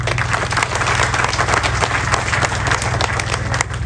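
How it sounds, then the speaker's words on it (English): An audience applauds God during a church gathering, with dense, steady clapping filling the room at an even loudness throughout and a low hum underneath. "So I want us to clap for God in a very,"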